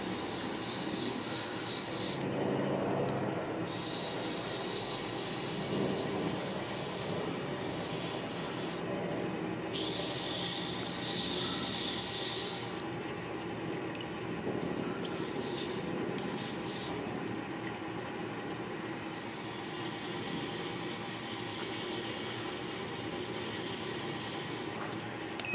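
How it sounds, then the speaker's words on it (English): A Fordite pen blank is sanded on a running lathe, giving a steady, continuous abrasive rubbing and hissing that holds at an even level throughout, close to the microphone and without speech. "I'm gonna actually do it with the lathe on, and then I'll just go back real quick and hand sand it."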